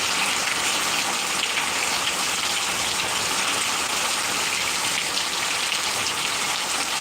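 Heavy rain with strong wind in Bengal, a dense, steady roar of downpour hissing on surfaces throughout, loud and unbroken with no voices.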